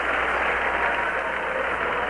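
A baseball crowd gives Dan Ford a standing ovation after his third home run of the game for the 1983 Orioles, a steady, dense wash of applause and cheering that holds evenly throughout.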